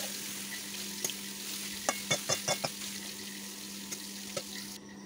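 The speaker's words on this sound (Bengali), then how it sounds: "অনেকক্ষণ ধরে বাঁধাকপিগুলো আমি কষিয়ে কষিয়ে একেবারে জল শুকিয়ে নেব" Cabbage and tomato stir-fried in a pan give a faint steady sizzle, punctuated by a cluster of sharp spatula scrapes and taps in quick succession at close range, with no talking.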